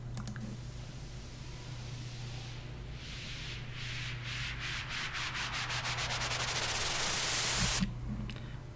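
A synthesized sound built in FL Studio with low-pass and high-pass filters: a rhythmic noisy pulse sweeps steadily upward in brightness and grows louder, then cuts off abruptly near the end, with no talking.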